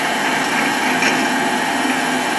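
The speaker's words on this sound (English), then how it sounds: "Drilling all the way through it," A half-inch drill bores all the way through a metal workpiece on a machining setup, giving a steady, continuous high-pitched whine with a faint grinding edge that holds at a constant level throughout.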